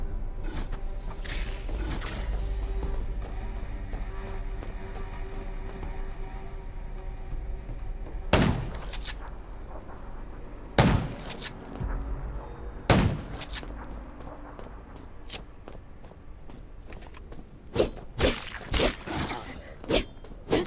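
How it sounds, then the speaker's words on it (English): Gunshots in the zombie video game Garena Undawn, sharp separate bangs spaced several seconds apart and then coming faster near the end, set over a low rumbling game soundscape with growls. "Gunshots will attract more zombies."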